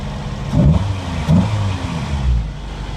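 An Acura Integra B18 engine idles nearby with a low rumble, revving up smoothly in two brief surges before settling back.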